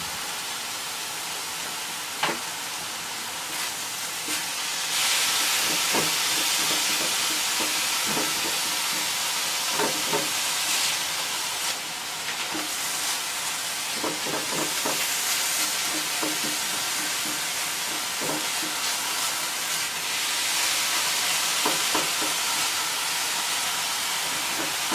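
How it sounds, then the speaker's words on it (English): Diced portobello mushrooms fry in a pan with a bright, steady hiss and sizzle that continues throughout, broken by small scattered pops and scrapes from stirring. "we'll add back in our diced portobellos"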